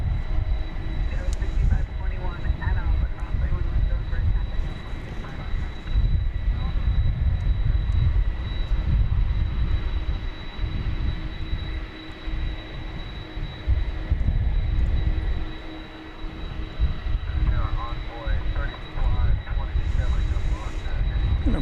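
A 32-year-old UPS cargo plane at DFW Airport gives a steady, loud engine roar with broadband rumble throughout, swelling and easing slightly, under an ongoing hum and faint background voices.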